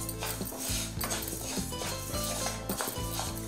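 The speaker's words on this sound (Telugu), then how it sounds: "మనం ఇలా బియ్యం, పెసరపప్పు వేయించుకోవాలి." Rice and moong dal dry roasting in a dry kadai for chakkara pongali, with steady scraping and clinking of a spatula against the pan, close and continuous, over a faint background hum.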